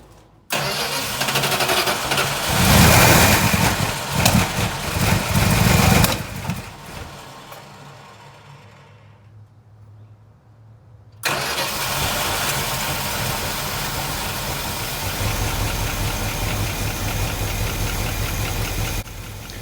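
A rebuilt Mopar 360 LA V8 cranks and catches with a loud roar, dies away to near silence, then restarts and runs with a steady, rough, uneven idle.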